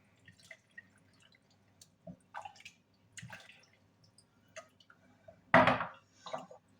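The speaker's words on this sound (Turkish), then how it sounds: "Kalan son iki kavanozumu da suyunu döküyorum." Vinegary brine is poured out of the last two jars of roasted fish pepper pickle, giving sparse drips and small splashes with one louder, longer gush near the end, without talk.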